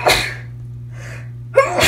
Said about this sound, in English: I just sneezed a bunch of times because I'm still sick